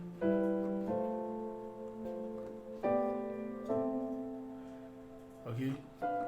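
Gospel piano plays drop 2 chord voicings up through the scale: a series of sustained chords struck one after another, each ringing and fading before the next, fairly close and clear.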